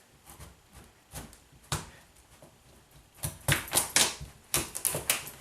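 A knife works through a tough acorn squash in a kitchen, with scattered sharp knocks at first, then a denser cluster of firm thuds and cracks close by, and no speech.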